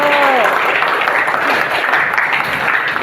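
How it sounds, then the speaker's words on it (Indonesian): Students in a classroom clap together, a steady, dense round of applause lasting a few seconds, with a brief voice at the start. "Oke, tepuk tangan dulu."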